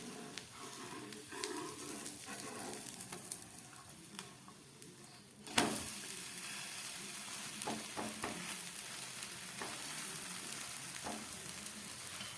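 Mixed vegetables for a vegetable dosa fry in a pan with a little oil, a soft, steady sizzle with light ticks and a single sharp clatter partway through.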